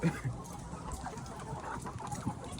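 Hens clucking on a poultry farm: a close, continuous mix of soft clucks and murmuring calls from several birds over a dense background.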